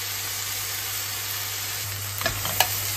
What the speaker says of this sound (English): We stir these in